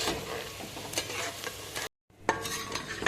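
Onions frying and being stirred in a pan for chicken karahi, a steady close sizzle with scraping stir strokes, broken by a brief silent gap before the frying resumes.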